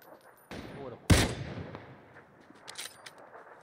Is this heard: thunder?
no